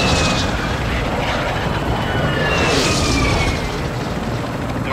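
A roaring aircraft sweeps low overhead during a close air strike in a video game, a loud, sustained jet drone that swells and fades, with a deep boom folded into the noise.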